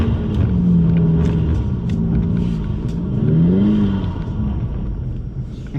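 A 2020 Ford Mustang with traction control off revs and accelerates on a snowy parking lot, wheels spinning, the engine note climbing and wavering in surges, close and loud with no talk.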